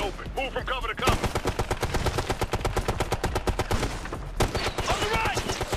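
Heavy automatic gunfire in the shooter game Ghost Recon: Future Soldier, rapid continuous bursts of rounds at close range, with brief game voices heard before and after the volley.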